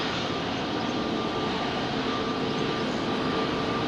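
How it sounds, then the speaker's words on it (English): Singapore Airlines Boeing 777 taking off from London Heathrow runway 27R: a steady, fairly faint jet engine roar continues at a distance with no talk. "So Singapore Airlines 777,"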